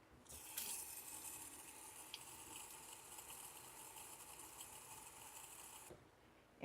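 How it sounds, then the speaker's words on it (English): Water pours steadily into a tomato container and swirls as it is rinsed out, a continuous close hissing splash lasting several seconds before stopping abruptly. "we add water to that same container, and then and we rinse it out"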